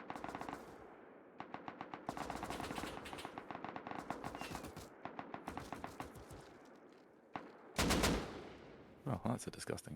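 Gunfire rings out in a Rust 4v4 tournament match, long-distance shooting heard as rapid bursts of automatic fire and single shots, with a loud cluster near the end. Faint game ambience sits underneath.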